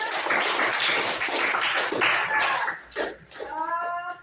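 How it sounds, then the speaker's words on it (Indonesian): A class claps hands together in a quick, dense burst of applause, loud and close, fading after a few seconds as a voice speaks. "Tepuk tangan buat kita semuanya."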